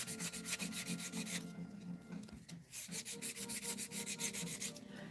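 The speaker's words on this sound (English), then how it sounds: "Let me just sand this real quick." Sanding a freshly demolded piece by hand, rapid rhythmic back-and-forth scratchy rubbing strokes, close and steady, with a brief pause midway before the strokes resume.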